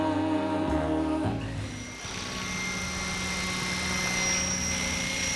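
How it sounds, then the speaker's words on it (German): A helicopter's rotor and engine drone steadily and fairly loudly, with a brief shift in tone early on before settling into a continuous whir. No one speaks. "Mein Vater hat mir den Hubschrauber geschenkt"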